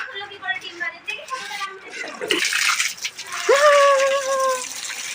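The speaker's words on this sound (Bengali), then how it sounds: "একটু জল দিয়ে কিছু একটা পা ভিজাবো পা" Water splashes and gushes over bare feet on a sunny rooftop on a hot day, a steady wash in the second half following a voice talking.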